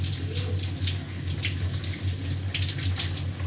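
Water runs from a campsite shower in Scotland, a steady hissing spray with pattering splashes and a low hum underneath, continuous and fairly close with no talking.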